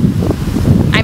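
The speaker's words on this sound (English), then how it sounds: "Oh my god, why is this so windy?" Gusty outdoor wind buffets the microphone in a steady low rumble for a second, with someone talking over it.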